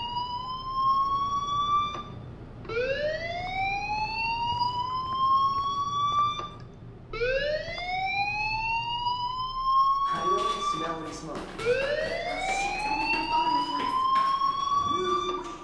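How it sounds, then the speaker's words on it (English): A school fire alarm in the Life is Strange video game wails in repeated rising sweeps, loud and close, each whoop climbing and cutting off before the next, with a voice briefly under the later cycles. "Do you hear that fire alarm? That means you should be outside."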